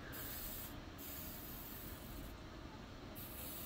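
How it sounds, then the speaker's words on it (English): Copper metallic spray paint hisses steadily from an aerosol can onto an abstract painting, a continuous airy spray with a few short pauses, close and fairly quiet. "This is just a copper metallic spray paint."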